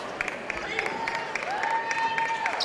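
The Cloverdale student section claps and cheers at a high school basketball game against South Putnam, a lively crowd noise with scattered claps and calls, and a voice talking over it.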